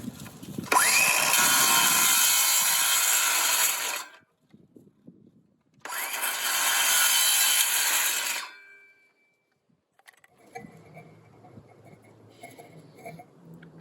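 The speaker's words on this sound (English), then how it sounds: "I need to cut a piece of pipe for there." A hand saw cuts through a piece of pipe in two loud bursts of rapid back-and-forth strokes, each lasting about four seconds with a pause between, followed by quieter handling and scraping noises.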